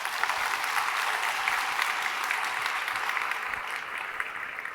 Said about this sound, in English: Let's show again our appreciation with a big round of applause.